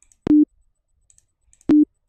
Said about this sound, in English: So this sine wave